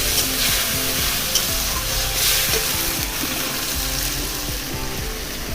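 Ground coriander paste and a little water go into a pan of frying onions, giving a steady, close sizzle with soft scraping as the mixture is stirred.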